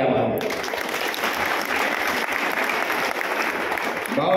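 Sustained audience applause fills a large gathering at a birthday celebration event, dense and even clapping from a crowd lasting several seconds, heard near and loud with no voices rising above it.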